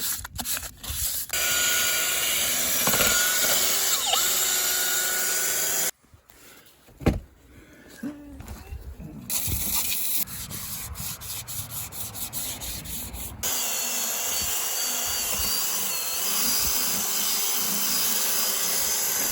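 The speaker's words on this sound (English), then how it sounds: "We're going over with this wire wheel here." A wire wheel scrubs and polishes dull aluminum slot wheels, giving a loud, steady abrasive rubbing and whirring. It breaks off briefly in the middle with scattered clanks, then carries on at the same level.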